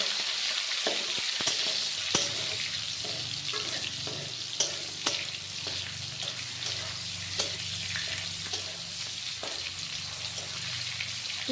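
Tomato, ginger and cumin sizzle in a hot pan while a utensil stirs and scrapes, giving a continuous frying hiss with scattered metallic taps and clinks spread through the stretch.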